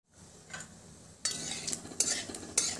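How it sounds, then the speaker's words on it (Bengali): Nigella seeds tempering in hot mustard oil in a kadai, a faint sizzle that turns louder partway through, with sharp scrapes and clinks of a stirring spoon against the pan. "ফোড়নটাকে একটুখানি ভেজে নেব।"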